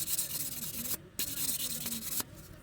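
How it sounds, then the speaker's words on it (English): Fine-grit sandpaper rubs back and forth over a bracelet made from a fork, giving close, scratchy strokes in a steady rhythm with two brief pauses between passes. "So once you've finished sanding it"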